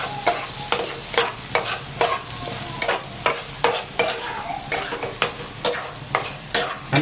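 Bheja masala, a spiced brain dish, sizzles as it fries in a pan, with a spoon scraping and stirring in a steady rhythm of repeated sharp strokes over the continuous frying hiss.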